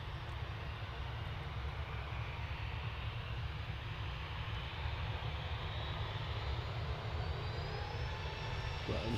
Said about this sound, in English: I'm swinging around to a Ryanair departure